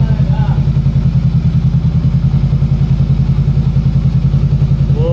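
A motorcycle engine close up, loud and steady with a rapid throbbing pulse, revving under a voice speaking Tagalog.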